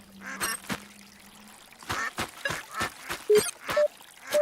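Ducks at a duck pond in the video game A Hero's Call give a run of short, sharp quacks in uneven rhythm, loud and close, with a few soft beeps between them.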